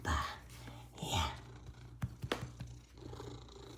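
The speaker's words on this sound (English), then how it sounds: "Big kitty. Big purr machine." A large cat purrs softly and close, in rough breathy pulses, with faint rustling around it.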